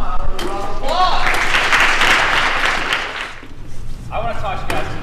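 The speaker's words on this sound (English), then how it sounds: "Come on, round of applause!" An audience claps at a disability-awareness event for cerebral palsy, a swelling round of applause under a speaker's voice that tapers off, with talking at the start and again at the end.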